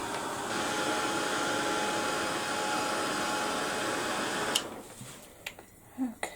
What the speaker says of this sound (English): give this a quick gloss with the heat gun first